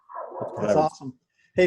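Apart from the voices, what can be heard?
dog barking at someone at the door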